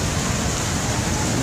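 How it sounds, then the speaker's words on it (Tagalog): Steady, dense hiss of heavy rain pouring down, constant and unbroken from start to finish. "Malakas pa ng ulan."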